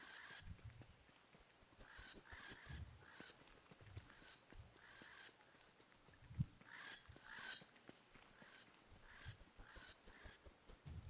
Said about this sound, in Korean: 저 새는 정체가 뭐야, 진짜. 시끄럽기만 하고.